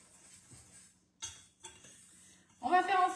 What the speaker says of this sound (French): On va prendre le fouet, hein, ça ira bien.